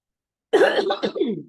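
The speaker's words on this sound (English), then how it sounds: "the cold makes me cough a little bit" A single harsh throat-clearing cough, brought on by cold weather, bursts out after a moment of silence, close and loud, trailing off roughly.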